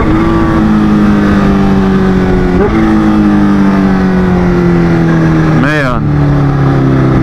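A Kawasaki H2 motorcycle engine on an overcast Santa Monica, California street, running loud and close with a steady drone that dips slightly and blips briefly before easing, as someone speaks over it.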